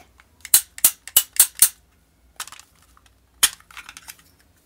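A toy pistol fires a quick volley of five sharp cap-gun-like cracks, followed after a pause by two more isolated snaps with faint clicking between them, close and loud.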